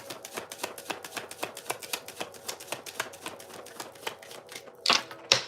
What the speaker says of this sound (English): Last shuffle, Spirit.